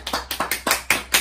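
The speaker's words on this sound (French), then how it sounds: "on peut m'applaudir" One person claps alone at close range, six sharp, evenly spaced claps in quick succession with no voices over them.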